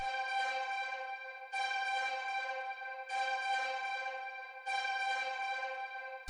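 A one-shot sample with delay, reverb and back-and-forth panning, low end cut by EQ, repeats in four bright, sustained tonal swells of about 1.5 seconds each, evenly spaced and steady in level, with no talking.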